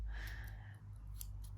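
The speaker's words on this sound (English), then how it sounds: "I got these little mini scissors from Temu" Small mini scissors are handled close up with a few faint metallic snips and clicks over a low background hum.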